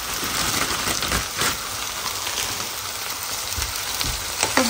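Vegetables hit a hot pan of frying egg noodles with a continuous crackling sizzle, dense and fairly loud, with a few soft knocks and stirring sounds and no talking.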